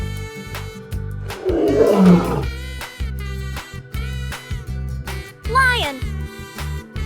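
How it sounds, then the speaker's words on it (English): A lion's deep, rumbling roar swells loud and close for about a second, set against a steady bed of other sounds. "Fun fact, a lion's roar can be heard up to 5 miles away."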